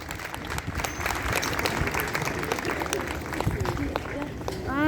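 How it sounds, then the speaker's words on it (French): A room full of firefighters claps continuously, a dense, lively patter of hands that carries on steadily from start to finish. "On peut l'applaudir quand même."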